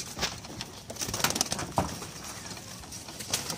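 Pigeons coo softly at a moderate distance, a few low calls mixed with light rustling and background noise, with no one speaking.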